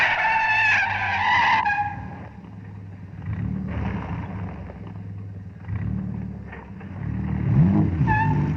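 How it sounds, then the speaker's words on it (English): A car brakes hard and skids in a classic film scene, the tires screeching through several loud bursts over a low engine rumble, with a final sharp squeal near the end. "a close-up of Grace Kelly's feet slamming on the brakes with the clutch and the brake"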